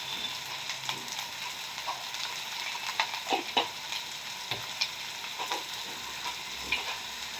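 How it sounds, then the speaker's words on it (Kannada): Onions and dried red chillies frying in a pan, a soft continuous sizzle with occasional louder crackles and stirring scrapes, heard close and alone without talk. "ಈರುಳ್ಳಿ ಚೆನ್ನಾಗಿ ಫ್ರೈ ಆಗಿದೆ"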